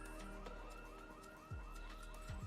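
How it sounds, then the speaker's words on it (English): A house alarm ringing in the Project Zomboid video game, a steady electronic tone with repeating whooping sweeps, heard at a distance and continuous, with a couple of low thuds partway through. "Do I hear house alarm?"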